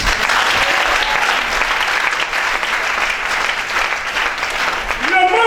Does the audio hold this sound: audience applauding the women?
yes